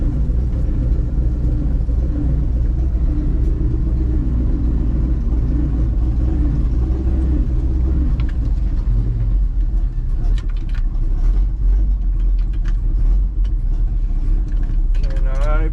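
A 1964 Chevy grain truck engine runs steadily with a loud, close, constant low rumble, and metallic gear and clutch clatter rises near the end.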